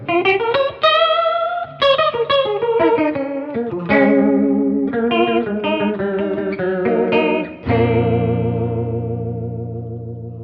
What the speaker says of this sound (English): It's worth noting this is an analog pedal, so there will be a bit of noise